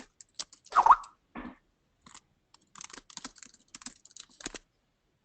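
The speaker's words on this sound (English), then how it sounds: "Sorry about the typing, guys." Typing on a computer keyboard during an online community clinics meeting, with scattered clusters of quick, light key clicks and one louder clatter early on, close and alone with no voices.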